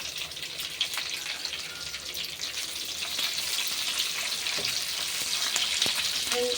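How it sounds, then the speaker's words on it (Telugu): Sliced onions fry with dried coconut in a pan for a Kerala-style prawn roast, giving a steady, close hiss of sizzling oil with a few faint clicks and scrapes. "ఈ ఆనియన్ని ఇంకా ఇందులో వేసుకొని ఫ్రై చేసుకోవాలి మంచిగా"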